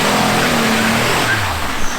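Dodge Caravan doing a front-wheel burnout at full throttle, a loud sustained roar of engine and spinning tires with a slight falling pitch near the end, no talk.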